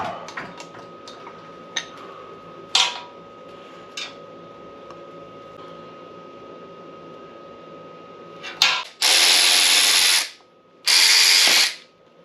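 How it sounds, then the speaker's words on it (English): A hand ratchet loosens the lower unit bolts on a Mercury 25XD outboard motor. Scattered close clicks and clacks are followed by two sustained rapid ratcheting runs, loud and near, with no talking. "once you remove all the bolts, the lower unit will pull off really easily"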